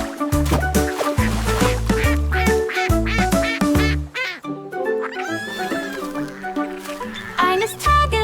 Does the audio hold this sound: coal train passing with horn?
no